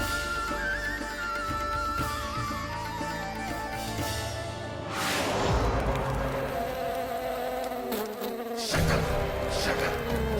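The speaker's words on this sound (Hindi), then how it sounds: "लगता है मक्खी थक गई है" A housefly buzzes steadily for about ten seconds in a dramatized devotional scene, its whine rising and falling as it moves, with tonal background sound beneath.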